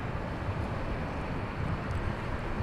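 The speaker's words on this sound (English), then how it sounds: "Is that a Gulfstream on final I see?" A Gulfstream business jet on final approach at LAX, a steady broadband roar of engine and airflow holding at an even, moderate loudness throughout, with no voices.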